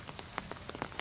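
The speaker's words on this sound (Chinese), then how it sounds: "但是因为下雨嘛" Rain falls steadily on an outdoor basketball court, making a soft continuous patter with scattered louder drips standing out. No one speaks.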